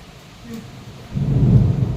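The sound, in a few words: thunder during a thunderstorm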